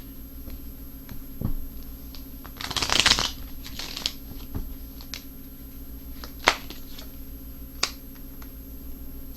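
Tarot cards being shuffled and drawn at a table, a dense riffling burst followed by scattered light snaps and flicks of single cards being laid down, close and fairly quiet.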